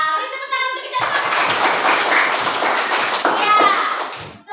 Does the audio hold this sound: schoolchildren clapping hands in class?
yes